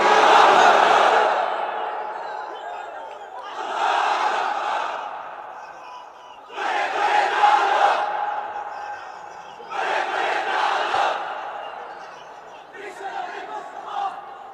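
A large crowd at an Islamic sermon gathering shouts takbir in four loud, long collective roars with pauses between them, the last one shorter and fading.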